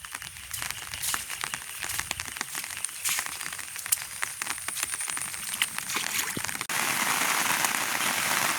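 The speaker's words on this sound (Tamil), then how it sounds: "இன்றைக்கு வந்து சரியான மழை பாருங்கள்" Heavy rain pours steadily onto a flooded village garden, a dense continuous patter with scattered sharper drops, growing louder and more uniform toward the end.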